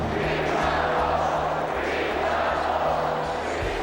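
A raucous Utah Jazz crowd fills the Delta Center during an NBA Finals game against the Bulls, a dense continuous roar with a steady thumping beat pulsing underneath.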